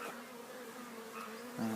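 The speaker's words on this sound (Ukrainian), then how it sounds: "Більше бджоли вилітає" Honeybees fly out of hives in an apiary, making a steady low buzzing hum that is fairly faint, with one bee passing closer near the end.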